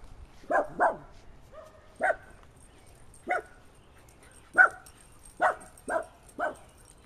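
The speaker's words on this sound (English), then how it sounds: "Did you hear the dogs?" Dogs barking beyond a backyard fence, eight sharp separate barks in uneven bursts, some in quick pairs, moderately near against a quiet outdoor background.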